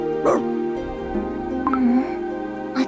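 Dog barking in the video game CookieRun Kingdom, a few short barks and yips near the start and end over steady game music.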